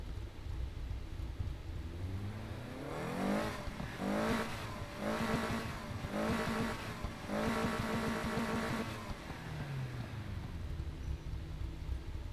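In the Need for Speed Heat racing game, a 2.3-litre six-cylinder car engine revs up and down in a series of rising and falling pulls over a steady low rumble, clear and sustained, with no talk.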